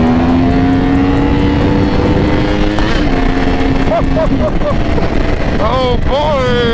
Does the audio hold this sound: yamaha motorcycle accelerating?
yes